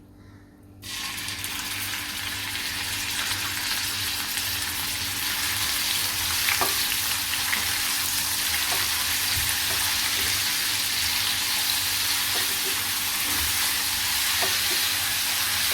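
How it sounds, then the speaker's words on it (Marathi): Onion dropped into hot oil for a mutton liver fry, bursting into a loud, dense, continuous sizzle that holds steady, with faint scattered pops and no talking. "तेल गरम झाले की आपण कांदा घालूया आता कांदा घालते"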